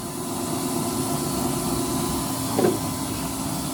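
A steady, loud whirring hum of the electric fan blower on a used-oil burning stove, blowing continuously, with no change in pitch apart from a brief soft bump near the end.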